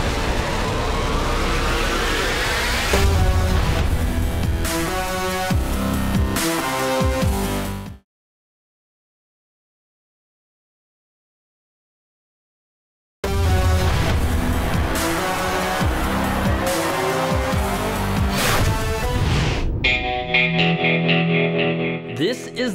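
Race car engines roar at the start of an ARCA race at Toledo Speedway, loud and continuous for several seconds. The sound then drops to silence and resumes, with a tonal whine and possible processing near the end.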